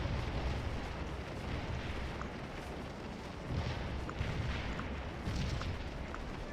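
Artillery guns fire in the video game Scourge of War during an 1863 dawn attack, heavy booms rolling one after another over a continuous loud rumble of distant battle.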